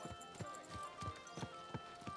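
A horse's hooves beat out a regular, distinct clip-clop while riding in Kingdom Come: Deliverance II, several soft close thuds in even rhythm over a low ambient hum, with no talking.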